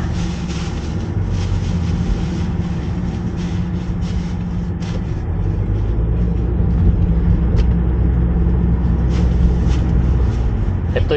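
A car heads along a Korean highway toward the expressway in winter, its engine and tire roar droning steadily and close throughout, growing a little louder and heavier partway through, with no voices.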